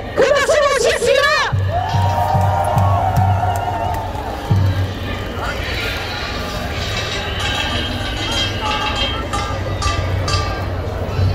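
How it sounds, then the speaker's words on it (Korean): A large candlelight rally crowd in Korea cheers, whoops and claps as a speaker is welcomed, a broad roar of voices under amplified speech at the start, then steady crowd noise with a low hum throughout. "촛불행동 공동대표이자 광주정당 촛불행동 대표 우윤근 교수님을 그 박수 모시겠습니다."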